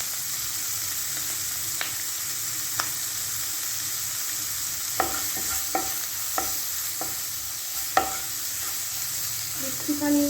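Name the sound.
onion and capsicum frying briefly in a pan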